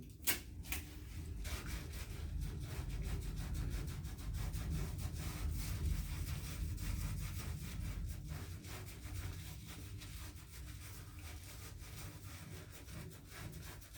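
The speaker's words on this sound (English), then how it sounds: "The basic part about it is scrubbing it very, very well." Steady rough rubbing of a face being scrubbed during a facial, a close, continuous scratchy friction that holds for the whole stretch without talk.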